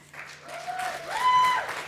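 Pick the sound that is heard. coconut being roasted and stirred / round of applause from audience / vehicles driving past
round of applause from audience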